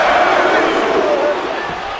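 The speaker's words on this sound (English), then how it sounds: "Did you hear this crowd?" A wrestling arena crowd roars and cheers steadily, loud and dense throughout, fading slightly toward the end.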